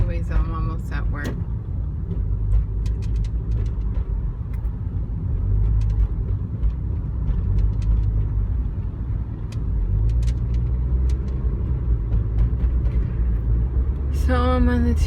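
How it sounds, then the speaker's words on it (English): A car drives along the 10 freeway, a steady low engine and road rumble from inside the cabin, with a voice speaking briefly at the start and end. "So I'm on the 10 freeway."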